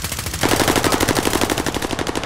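Rapid automatic gunfire in a battle royale shooter, a loud close burst of evenly spaced shots that starts abruptly and runs unbroken to the end.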